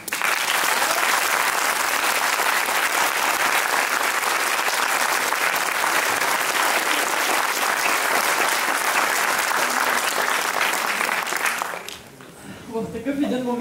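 A packed hall audience applauds loudly and continuously for a long stretch, a dense wash of clapping that fades out near the end as a voice begins speaking.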